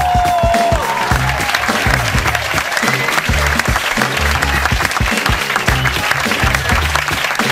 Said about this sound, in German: Und ich würde sagen, ein riesen, riesen, riesen Applaus für Falscher Hase!